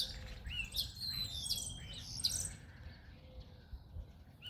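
Birds sing in a spring garden, with bright chirps and whistled phrases in clear bursts over a low outdoor background rumble, fading toward the end.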